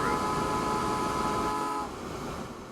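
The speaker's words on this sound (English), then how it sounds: "These 2 freight trains traveling side by side on the 4-track section." Freight trains rumble past side by side on a four-track main line in Transport Fever 2, a steady loud rolling clatter with tonal horn-like hums that fade and drop away near the end.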